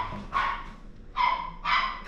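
A dog barks three times from close by, sharp separate barks with short gaps between them, heard alone with no talking.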